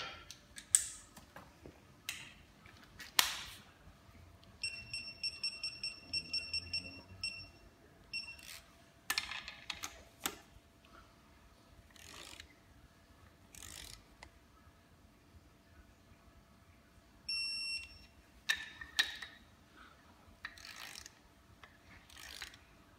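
A torque wrench ratchets on the bottom-end bolts of a Nissan engine set to 20 newton metres, giving bursts of clicking pawl and a couple of sharp beeping click-signals amid handling knocks, close and fairly quiet, with no talking.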